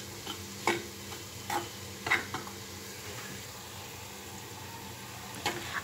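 Moong dal roasting in a pan for halwa, stirred continuously: a quiet, dry sizzle with several distinct scraping strokes of a spoon against the pan, no voices.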